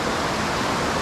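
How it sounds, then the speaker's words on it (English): A waterfall plunges into a big pool in cold, wet wilderness, giving a steady, full-bodied roar of falling water that fills the whole moment with no voices over it. "What a lovely looking waterfall. It drops down behind into a big pool as well."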